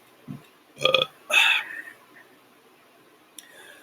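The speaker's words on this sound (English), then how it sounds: "Sorry, got the hiccups." A person indoors has hiccups, heard as a few short, sharp gulping catches, with a fainter one a couple of seconds later.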